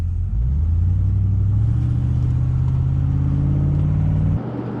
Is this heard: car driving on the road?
yes